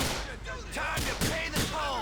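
Gunfire in the video game GTA 4: The Lost and Damned, a few sharp bursts cracking out about every quarter to half second over a steady bed of game noise and music.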